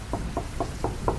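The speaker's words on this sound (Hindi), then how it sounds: "एक बार फिर से दस्तक हुई," Five evenly spaced knocks on an outer door on a rainy night, moderately faint over a steady low rumble of heavy rain.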